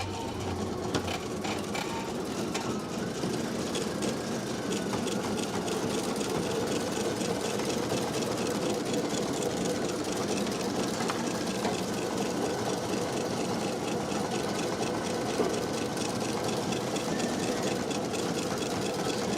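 A Pfaff or Husqvarna sewing machine stitches with metallic thread at a slowed speed, a steady continuous mechanical whir and rapid needle clatter running unbroken for nearly twenty seconds, close and even.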